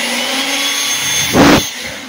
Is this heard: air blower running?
yes